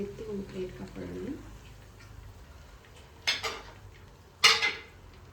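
A deep-fried garlic kebab is lifted from the pan onto a plate, giving two short, sharp metal-on-dish clinks after someone speaks at the start.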